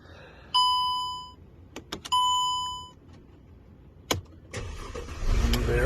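Mercedes-Benz W204 fitted with an ESL emulator: two sustained electronic chimes, a few clicks, then the engine cranks and catches into a steady idle.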